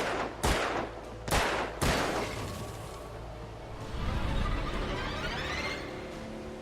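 Enemy gunshots in Alan Wake ring out as three sharp, loud cracks spaced about a second apart, followed by a rumbling, clattering wash of lower noise, close and without talk.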